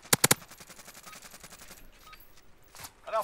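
Light machine gun fire in a first-person shooter video game, a rapid rattling burst of shots that opens loud and close, then trails into quieter repeated bursts with a sharp effect sound near the end, and no talking.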